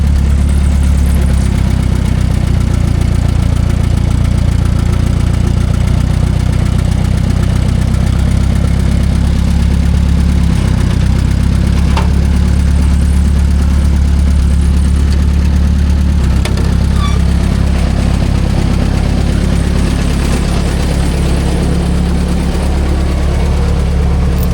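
A U302 Super Diesel tractor engine chugs steadily in gear, a loud, continuous low diesel rumble with even vibration, close by and without talk.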